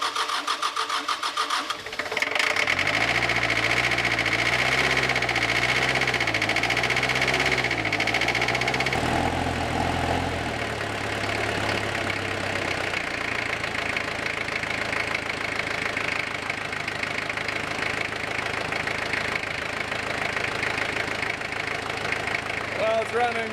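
A 1983 Ford Ranger's 2.2L Perkins diesel cranks over and settles into a loud, steady idle, its rough clattering running on close by, with irregular knocking and shifts in tone as it keeps going and a voice speaking over it.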